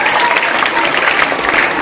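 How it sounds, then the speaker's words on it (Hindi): Audience applause at a school mushaira, a dense, steady clapping wash lasting the whole clip, loud and close with no voices over it. "जोरदार तालियां एक बार फिर से।"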